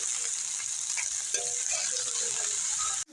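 Garlic stirred into mustard greens frying in a pan for sarson ka saag, a steady hiss of sizzling with a few spoon scrapes and clinks, ending abruptly.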